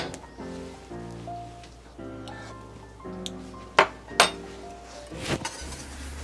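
Unsalted butter is stirred into homemade enchilada sauce in a pan, with a few sharp clinks and scrapes of a utensil against the pan over soft background music.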